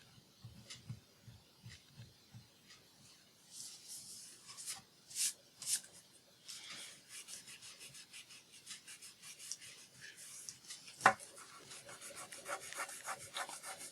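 Quiet rubbing and scratching on a thin paper envelope, lifting off a printed transfer, with soft uneven strokes, a few sharper taps and a brief click, close and faint throughout.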